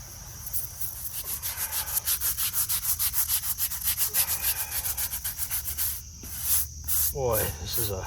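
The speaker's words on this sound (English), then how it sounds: "I'm going to use a little stronger solution this time and clean up these gravestones" Old gravestones in a 189-year-old rural cemetery are scrubbed with a stronger cleaning solution: steady, rhythmic rubbing strokes close by, pausing briefly near the end before a few scattered sounds.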